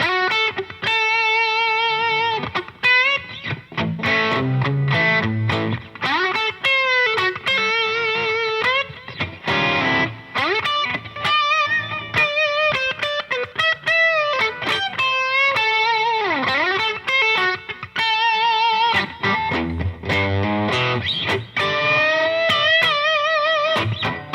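A D'Angelico Premier DC electric guitar plays bluesy melodic lines and bends with a light, gritty overdrive tone, continuous and up close with no talking.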